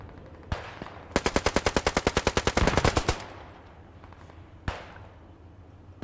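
A long burst of MG 08/15 machine gun fire rings out in the Squad 44 World War II shooter game: about eighteen rapid, evenly spaced loud shots, with a single sharp gunshot before and another after.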